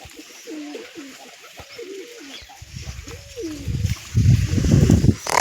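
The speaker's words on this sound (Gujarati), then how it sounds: "બાકી બીજા બધા કબૂતર અહીં બેઠા છે" Pigeons coo in soft, repeated throaty calls up close. They are then joined by splashing and fluttering as the birds bathe in a water tray, and the splashing grows louder toward the end.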